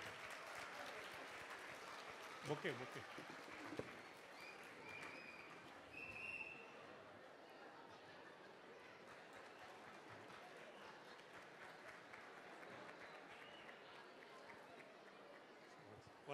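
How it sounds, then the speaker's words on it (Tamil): Audience applause at a Diwali celebration stage event as guests are called up, a dense, steady clapping that runs throughout with brief voices and cheers over it, plus a short spoken exchange early on. "அனைவரும் கரகோஷம் கொடுத்து உற்சாகப்படுத்துமாறு கேட்டுக்கொள்கிறேன்."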